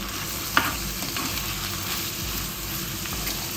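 Sliced raw plantain frying with onion, ginger and green chili for a sardine curry, a steady close sizzle with stirring and one sharp clink of a utensil near the start.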